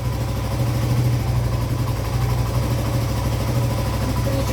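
A 1982 Yamaha XT200 motorcycle engine idles steadily just after starting, a close, even low putter with a constant throb and no revving, alone without voices.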